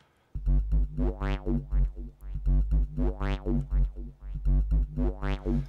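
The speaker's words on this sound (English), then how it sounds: "And now I've got a filter sweep going up and down like that" A loud synth tone in Cubase SX pulses rhythmically in volume while a resonant filter sweeps up and down, giving a bright, wobbling, repeating motion.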